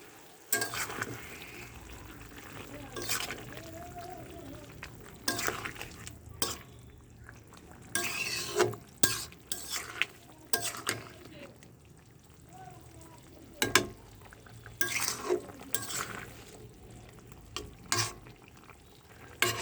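Grass carp pieces fry in a pan, a low steady sizzle punctuated by repeated spatters, pops and utensil knocks spread over the whole stretch; quiet and unhurried, with no talking.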